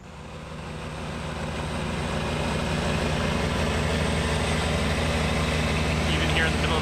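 Low, steady engine drone of a river boat pushing three large barges on the Amazon, rising slightly in loudness and rumbling continuously while a voice talks over it.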